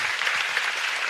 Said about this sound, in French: on peut déjà applaudir aussi cette initiative